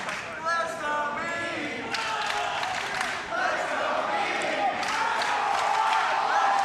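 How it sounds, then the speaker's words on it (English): Large crowd at a classic Tetris world championship semifinal cheering and chanting continuously, with clashing chants and whoops rising and falling throughout. "There's that crowd, yep."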